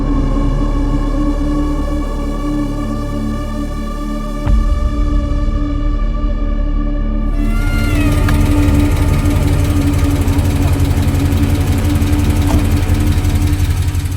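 Jeep Wrangler JL 392 Hemi V8 idling with a lifter tick, a loud, steady throbbing rumble whose tone shifts and brightens midway, heard alone without speech.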